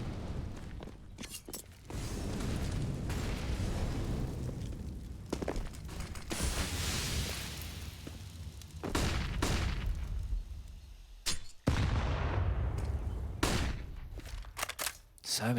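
Grenades burst over and over in a Counter-Strike match on the Inferno map, Na'Vi against FURIA: a dense run of loud booms and gunfire cracks across the round, with a few short gaps, under commentary.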